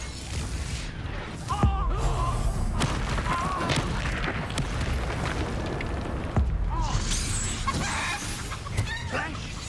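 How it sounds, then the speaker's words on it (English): Spell explosions and fiery blasts from combat in the video game Hogwarts Legacy, several booming hits over dense continuous game noise with crackling effects, loud throughout. "Flash of explosion."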